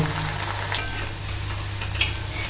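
Dhoka lentil cakes fry in a pan of oil for a vegetarian dhoka dalna, a continuous close sizzle with a few sharp pops and light spatters, no voices.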